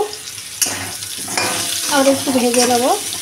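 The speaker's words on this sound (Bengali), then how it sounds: "নুন আর হলুদটা দিয়ে আবার একটু ভেজে নেব" Potato pieces fry in a pan with salt and turmeric as they are stirred, giving a steady close sizzle with scraping stir sounds and a brief louder burst partway through.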